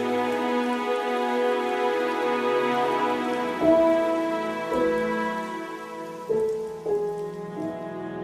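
Steady rain patters through a storm scene in an audio drama, with sustained musical tones ringing over it and new notes entering at intervals.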